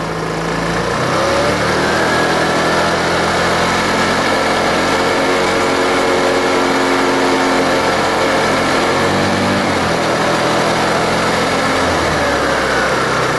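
A scooter engine runs steadily at about 4000 RPM, a constant loud buzzing drone with slight wavering in pitch throughout.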